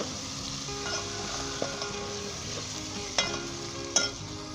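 Cumin, red chili, turmeric and salt roast in a pan for a Punjabi potato-pea shorba, giving a low steady sizzle with occasional stirring scrapes and a few sharper clinks near the end.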